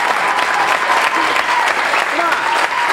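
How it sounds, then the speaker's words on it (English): Loud, sustained audience applause fills the whole stretch, dense clapping with scattered voices mixed in, honoring a guest on a home improvement podcast. "I think Wes Davison deserves a big round of applause."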